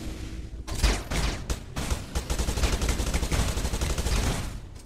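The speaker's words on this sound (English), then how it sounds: "so the machine gun doesn't seem that strong at all" Machine gun fire in Midair, a Tribes-style shooter: dense, rapid bursts of automatic shots, loud and close, with brief pauses early and then near-continuous firing.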